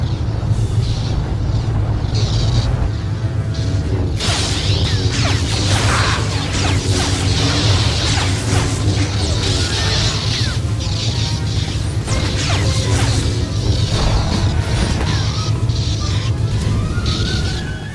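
Flamethrower attack in a Star Wars action game, a continuous loud roaring whoosh layered with crashes and swishing combat effects that keeps going without letup.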